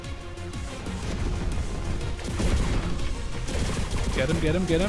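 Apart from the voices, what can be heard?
rocket launcher explosion in video game Enlisted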